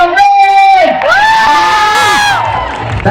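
A beauty expo crowd cheering, whooping and shouting loudly in a rising, sustained roar, with high-pitched yells standing out up close.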